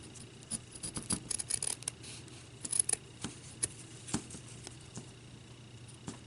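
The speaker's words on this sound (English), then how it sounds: "I'm going to try to cut the white part off because I really don't want that showing" Small scissors snip the white part off a paper peppermint snowman ornament in short irregular cuts and rustles, close but quiet, with no talking.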